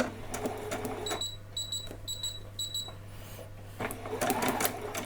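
A sewing machine stitches slowly around a Halloween dress a quarter inch from the edge, with back stitches, in short bursts of rattling stitching broken by pauses, near and moderately loud over a steady low hum, with bright beeping tones mid-clip.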